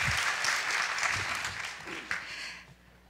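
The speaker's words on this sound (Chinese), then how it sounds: "我们给他掌声，谢谢" A university lecture-hall audience gives a guest a dense burst of applause that stays strong for about two seconds, then tapers off, with a voice briefly heard.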